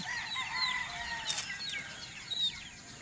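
Roosters cluck and chirp steadily while pecking at feed on a Filipino farm in the early morning, several close birds making short repeated calls over a quiet background.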